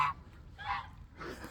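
Farm geese give three short, nasal honks spaced roughly half a second apart, fairly faint and a little distant, with no talking.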